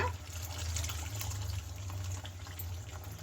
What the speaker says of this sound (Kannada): ಈಗ ಕಿವುಚಿರೋ ಹುಣಸೆ ಹಣ್ಣು ನೀರನ್ನು ಇದಕ್ಕೆ ಸೇರಿಸ್ಕೊಳ್ಳೋಣ